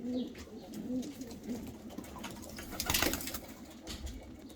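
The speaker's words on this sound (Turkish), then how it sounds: "Şu kuşlar da çok hoş." Pigeons or doves coo in a short series of soft, low, rounded calls, moderately close, over a steady background hum with a few brief louder rustles.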